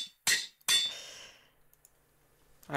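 In a video game, a faux hammer strikes twice, two sharp metallic clanks with ringing tails, followed by faint scattered ticks and a final short clatter, with no voices.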